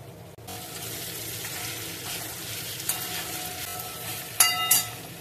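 Curry leaves and mild green chilies sizzle and crackle in hot oil for a Kerala-style chicken curry, a steady frying hiss with a few sharper pops and spatters near the end, no voices.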